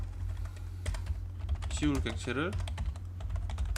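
Computer keyboard keys clicked during AutoCAD drafting, a few scattered taps over a steady low hum, while someone speaks over them.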